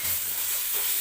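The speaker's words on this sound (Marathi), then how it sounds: "टोमॅटो सुद्धा हलकासा मऊ होईपर्यंत आपल्याला भाजून घ्यायचा आहे" Tomatoes added to sautéed onions frying in a pan for a matar paneer gravy, giving a steady soft sizzle with faint stirring, close and continuous, no voices.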